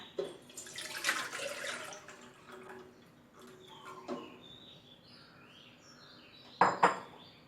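A pot handled in a home kitchen while making tamarind drink, with metallic clatters of cookware, a loud clank near the end and light water sounds, heard close and without talk.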